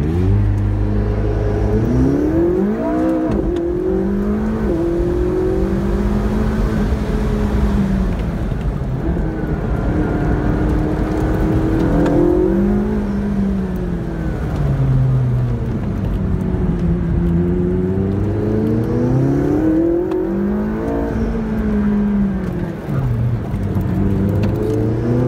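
A McLaren 675LT supercar on an autocross course, its engine loud and close as it accelerates hard through repeated rising and falling revs, with shifts and throttle lifts between corners across the whole run.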